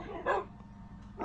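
A dog barks twice in the Minecraft video game, two short, clear yips about a second apart with a low background hum and no talk.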